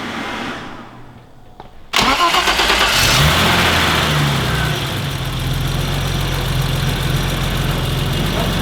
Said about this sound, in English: then we'll start the car and see how it sounds